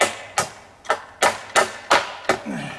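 A hammer strikes outdoors during deer fence installation among trees, seven sharp, evenly spaced blows about every third of a second, close and loud.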